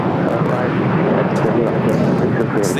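A KLM Boeing 787-10 Dreamliner at LAX gives off a steady, loud, broadband jet roar that holds throughout, with no gaps.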